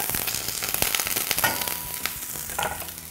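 Garlic sizzles and crackles steadily in a hot pan beside beef tongue, a dense, continuous frying hiss with small pops throughout.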